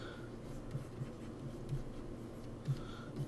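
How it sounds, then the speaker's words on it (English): A pencil sketches the hairline of a comic character with soft, steady scratching strokes on paper, close and quiet, with small accented taps. "So we're going to start with drawing his hairline."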